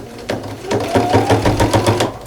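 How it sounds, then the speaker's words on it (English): A home sewing machine stitching fabric binding onto a quilt, a steady fast mechanical whirring with a rhythmic needle chatter, close and alone without talk. "And now I'm ready to go ahead and sew this down."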